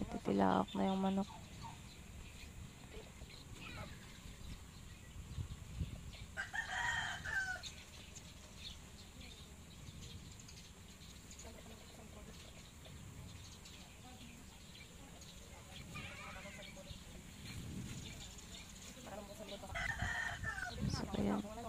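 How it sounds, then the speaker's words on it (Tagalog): A rooster crows a few times in the distance amid a quiet outdoor background, with clucking fowl and occasional soft voices. "Tilaak na yung manok."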